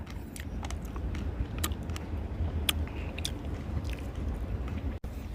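Someone chews and bites into sweet wild strawberries outdoors, a steady close-up mashing and squishing with a few sharp crunchy clicks, over low background rumble and no talk.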